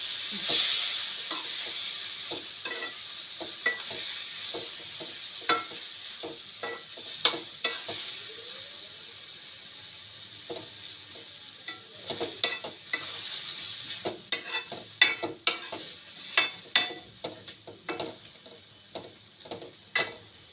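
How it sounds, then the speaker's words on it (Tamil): Tomatoes sautéing in a pan with mustard seeds, urad dal and green chilli: a soft steady sizzle under repeated clicks and scrapes of a spoon stirring, with the stirring growing busier toward the end. "தக்காளியை நல்லா வதக்கணும்"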